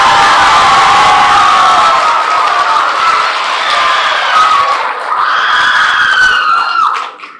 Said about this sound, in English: Those are some very high-pitched screams over there